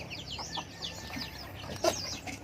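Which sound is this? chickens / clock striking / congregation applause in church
chickens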